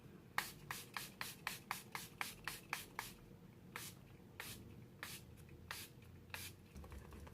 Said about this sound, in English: the last thing in this random pics is this Milani Make It Last setting spray